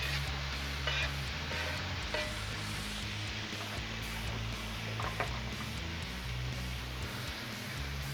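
Oklahoma onion burgers frying on a Blackstone griddle give a steady, close sizzle with scattered faint pops and crackles that continue evenly throughout, with no voices.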